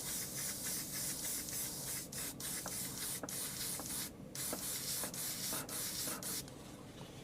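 An airbrush sprays a premixed lemon yellow paint in a continuous close hiss, broken by brief pauses and small clicks as the trigger is worked, with no talking.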